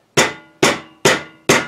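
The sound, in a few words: rubber mallet hammering VW window seal into frame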